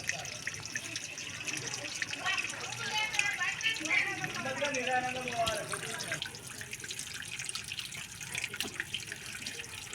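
Tap water runs steadily while cut pieces of korameenu fish are washed and cleaned by hand, with splashing near the start and someone talking over it.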